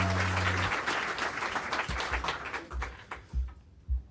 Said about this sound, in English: Clap that up, guys